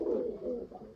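Teddy and golden pigeons kept for sale give a single low, throaty coo, faint and brief, with no talk over it.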